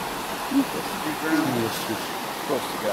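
A stream in Sedona, Arizona flows with a steady, fairly loud wash of water, heard up close, while faint voices murmur underneath.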